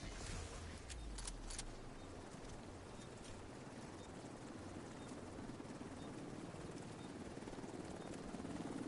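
A helicopter arrives in the video game The Division 2 as a steady, broadband rotor and engine wash that holds throughout at a moderate distance. A few brief higher tones show near the start.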